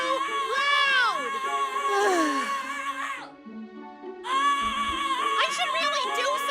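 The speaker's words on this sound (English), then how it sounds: "The screaming is much too loud." A child screams and wails in the fantasy adventure video game Prim, loud, high and drawn-out cries with wavering pitch, breaking briefly before resuming.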